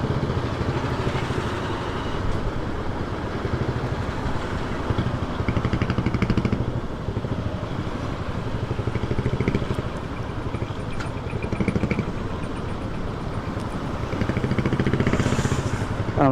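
Motorcycle engines, including a Royal Enfield and a KTM, idle and rumble steadily in a traffic jam on a badly damaged road. The low engine drone is dense and continuous, and other traffic noise can be heard over it.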